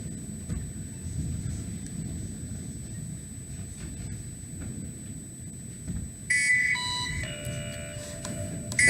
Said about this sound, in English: there is the alarm for the episode's nerd alert